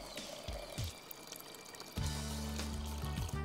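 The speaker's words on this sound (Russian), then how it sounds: "Теперь я наливаю воду." Water is poured into a clay pot for cooking kulesh with pork belly in a tandoor, a steady close gurgling fill that starts partway through after faint handling noise, with no talk.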